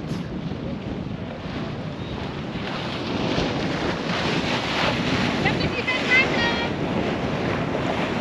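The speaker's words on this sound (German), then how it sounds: "Und der Wind vor allen Dingen, tipptopp, schön konstant, bläst ganz sauber" Steady wind buffets the microphone on a Kenyan beach on the Indian Ocean, with a constant roar of surf and breaking waves beneath it, loud and continuous throughout.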